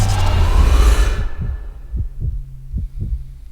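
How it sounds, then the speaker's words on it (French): A slow, muffled heartbeat thumps in a steady rhythm of paired low beats under a droning hum in an animatronic horror video game, emerging as a loud rushing noise fades out. "Vous entendez ces battements de cœur?"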